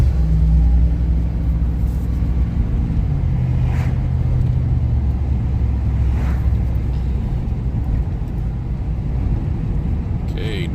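A 1998 Chevrolet C1500 pickup truck accelerating along a hilly street, with a steady loud engine rumble and low drone that holds throughout, faint swishes of passing traffic, no talk audible.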